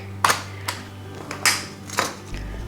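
A knife cutting into a hot vegan date and walnut cake in its tray, making a handful of crisp, close taps and short scrapes separated by brief pauses.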